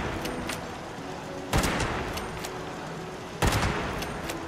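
Gunfire in the video game Fallout 76, with two heavy, booming shots standing out over a dense, steady background of rattling weapon fire.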